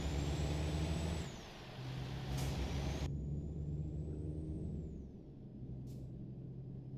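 Big rig truck in American Truck Simulator pulling away from a stop in Florida, with a loud low engine drone, a pneumatic air-brake hiss near the start and a gear-shift dip, steady and close with no talk.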